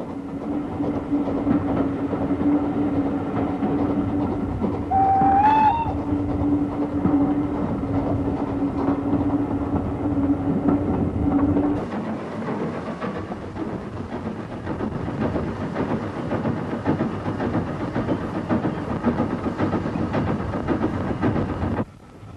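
A train rumbles along steadily with a sustained low drone and rolling rail noise, the sound shifting and closing in midway as if entering an enclosed space.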